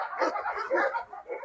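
A dog at a large dog breeding farm gives short, fairly faint barks and yips in a quick burst lasting about a second and a half.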